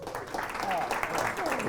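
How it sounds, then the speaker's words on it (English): A live-session audience at a business talk on brand building applauds briefly, with clapping mixed with cheering or voices that rise and then hold at a moderate level. "So big round of applause."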